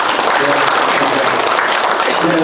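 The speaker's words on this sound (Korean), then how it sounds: "큰 박수로 개회를 선언하도록 하겠습니다" Loud, dense applause from union delegates opening a construction workers' union cadre meeting, sustained clapping close up with a few voices in the mix.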